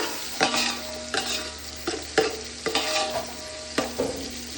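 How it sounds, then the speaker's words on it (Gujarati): Vegetables are tempered in a large pot, sizzling steadily in oil while a spoon stirs and scrapes against the metal in a series of sharp, repeated strokes. The sound is close and there is no talking. "હવે શાક વંગારીએ મોટા બધા તપેલામાં"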